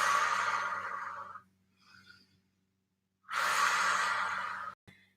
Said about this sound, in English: You are breathing in through your nose